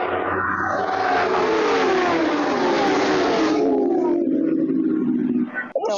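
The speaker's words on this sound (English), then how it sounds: "That's the bike's coming." Superbike motorcycles roar past close by, a loud sustained engine wail sweeping down in pitch as they go by, then fading; a voice briefly speaks at the end.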